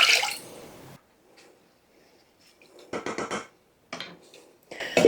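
Water is poured into a cooking pot holding pork broth, giving a loud splashing rush at the start, faint trickles and clinks, then two more short bursts of pouring and sloshing close by.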